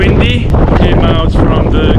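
Wind blowing by the water along a boardwalk in Yokosuka, Japan, a loud constant roar buffeting the microphone with no letup.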